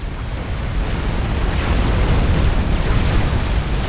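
Dense, roaring rumble of explosions as experimental units battle in the video game Supreme Commander, a continuous loud wall of booms and bursts without distinct gaps.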